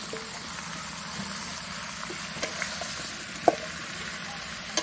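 Cut new potatoes go into a pot of homestyle desi rooster curry, which keeps up a soft, steady sizzle broken by occasional light clicks and taps from stirring.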